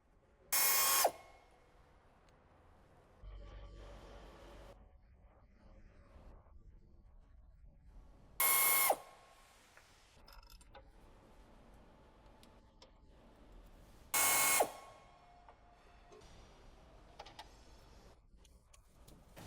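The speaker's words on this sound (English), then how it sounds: "Using a 14mm socket on the pneumatic ratchet, loosen the bolts of the steering rack brackets" A pneumatic ratchet with a 14mm socket loosens the steering rack bracket bolts on a 2006-2011 Honda Civic, making three loud buzzing bursts of about a second each, separated by long stretches of quiet workshop background.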